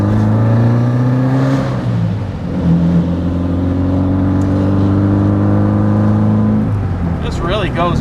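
A custom 1969 VW Karmann Ghia pulls away and climbs through the gears from inside the cabin, the engine drone rising in pitch, dipping at shifts and rising again, loud and steady throughout.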